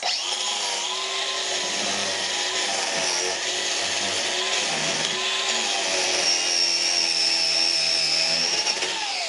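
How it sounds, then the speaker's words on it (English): Angle grinder fitted with a wire wheel stripping surface rust from old metal, a continuous high whine with a harsh brushing rasp that holds steady throughout, close and loud without talk. "I'm just going to use a wire wheel on the grinder."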